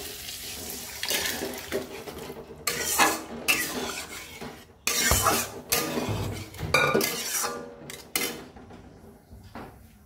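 Pot of boiling potatoes covered with a lid in a home kitchen: a series of close metallic clanks and scrapes, with bursts of handling noise and short pauses between.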